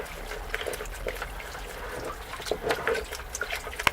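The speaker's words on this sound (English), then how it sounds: "that's what's draining out of the block" Water trickles and dribbles steadily from the cracked engine block of a 2018 Bayliner Capri's 3.0 liter Mercruiser, with small splashes and gurgles as it drains out, fairly close and moderately quiet.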